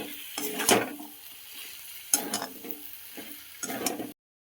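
Fried fish being sautéed with spices in a pan, with a steady sizzle and three bursts of stirring scrapes and utensil clatter against the pan, close and moderately loud.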